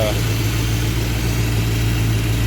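A car engine fitted with a Thermoquad carburetor idles steadily after warming up with the choke fully open, a constant low rumble with a firm hum that holds throughout.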